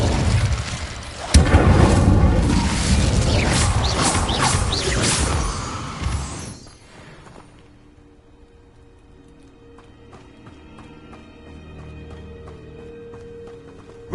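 An Incendio fire spell is cast in the Hogwarts Legacy video game: a sharp crashing burst followed by several seconds of loud crackling, whooshing flame and debris, then a quick fade into a quiet low hum.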